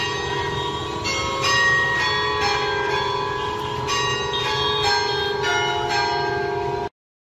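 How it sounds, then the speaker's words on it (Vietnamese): Church bells in Saigon pealing to welcome the new year, a continuous ringing with repeated strikes layered over lingering resonant tones, loud and steady, then cutting off abruptly. "chuông kiển nhà thờ đã rộn rã khua lên từng hồi để chào đón một năm"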